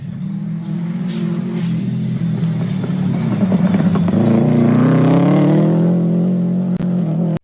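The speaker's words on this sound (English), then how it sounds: "We're on board here with Hugh and Karen" Onboard engine of a rally car on a Safari Rally stage in the 2022 WA Rally Championship, a steady loud drone that climbs in pitch as it accelerates midway and then holds high revs, heard alone.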